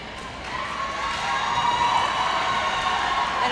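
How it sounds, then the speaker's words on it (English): Crowd at a high school volleyball match between Clarke Central and Johnson cheering, a roar that swells and grows louder through the clip, with mixed shouts and voices blending into the noise. "And you can hear the crowd going crazy right now."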